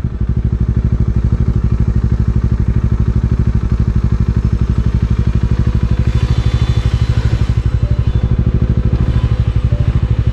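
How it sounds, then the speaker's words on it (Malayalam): A Bajaj Dominar motorcycle engine thuds in a fast, even rhythm close by while riding off-road, steady and loud throughout with a little wind rush. "ഡോമിനറിലെ ഓഫ് റോഡ് കേറ്റാ ഞാൻ പറഞ്ഞേ"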